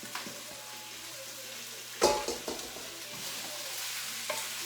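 Jambalaya ingredients brown in a hot pan with a steady crackling sizzle, broken by a few louder clatters as they are stirred, with no talk.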